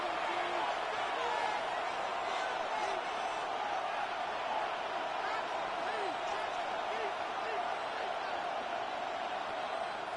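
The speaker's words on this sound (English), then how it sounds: "The crowd cranking it up another notch before 3rd and long." A stadium crowd in a Madden NFL football video game cranks up in the fourth quarter before a third-and-long play, a dense, steady roar of massed cheering that holds at constant loudness for the whole stretch.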